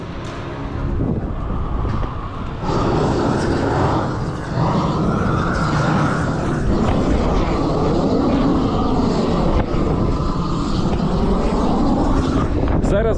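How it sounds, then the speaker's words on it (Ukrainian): Steady low rumbling wind buffets the microphone on a hilltop throughout, with a person talking over the gusty roar. "буде трошечки погіршення звуку через те, що ми забрались на гору. І тут піднявся вітер"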